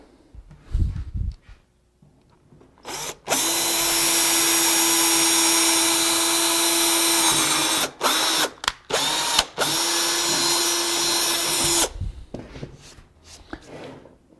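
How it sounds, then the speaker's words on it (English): A power drill with a 7/32 bit bores a series of holes. The motor whines steadily and loudly for several seconds, cuts out in brief gaps and restarts, with soft handling clatter before and after. "Now drill these 4 holes out with a 7/32 drill bit"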